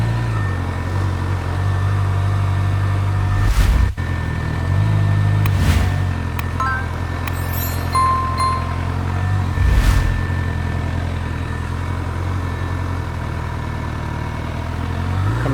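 A sports motorcycle engine holds a steady low idle-like drone through slow-speed maneuvering, with light throttle blips and brief clattering, close and continuous throughout.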